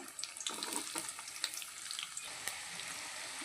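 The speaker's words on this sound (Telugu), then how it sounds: "ఈ అల్లం ముక్కల్ని అయితే ఇలా చక్కగా ఫ్రై చేసేసుకోవాలి" Ginger pieces fry in hot oil with a steady, moderately loud sizzle, broken by frequent small crackles and pops and an occasional sharper spit, with no voices over the cooking.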